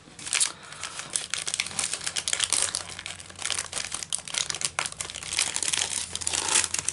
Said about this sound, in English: Sorry for the rustling